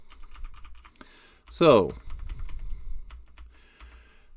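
Rapid clicking of computer keyboard keys while formatting an outline in Google Docs, a steady patter of soft taps with a brief louder burst midway and a single spoken word near the start.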